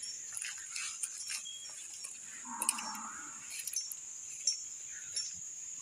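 Bali crossbreed cattle in a herd moo at a farm, one drawn-out low call standing out midway over a steady outdoor background with faint clinks, no talking.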